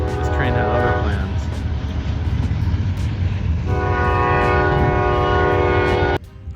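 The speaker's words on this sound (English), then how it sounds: "I was trying to film, but this train had other plans." A long train passes close by with a loud, sustained horn blast, the rumble of rail cars continuing throughout and the horn sounding again before cutting off abruptly near the end.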